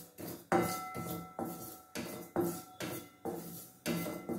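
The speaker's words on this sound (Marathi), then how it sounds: "त्याच कढईत मी आता तीळ भाजून घेते." Sesame seeds roast in an iron kadhai, with a rhythmic series of metallic scrapes and clinks, about eight in four seconds, as a spoon stirs the pan, quiet and close, with no speech.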